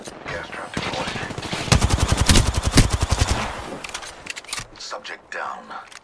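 Rapid automatic gunfire from the video game Apex Legends, a close, loud burst of fast repeated shots that then trails off, with a voice speaking over and around it.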